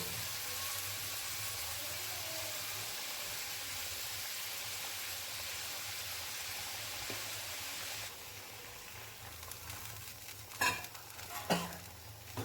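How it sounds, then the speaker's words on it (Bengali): Potatoes and spices stirred in a pan for a village-style kham aloo, a steady sizzling hiss running throughout, with a few sharper scraping knocks near the end. "এবার একটু মিক্সড করে দেবো মশলার সঙ্গে একটু খাবারটা।"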